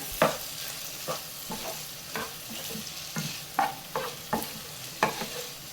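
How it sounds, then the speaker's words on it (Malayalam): A spatula scraping and stirring butter garlic paneer fried rice with vegetables in a hot pan, soft rhythmic strokes over a faint sizzle, close and quiet with no talking. "ഇനി നല്ലതുപോലെ ഒന്ന് ഇളക്കി മിക്സ് ചെയ്യാം"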